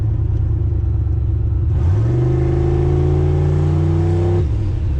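A 1000 HP Aero Coupe engine holds a loud, close drone, then climbs steeply in pitch as the car accelerates hard through second gear, cutting off sharply near the end.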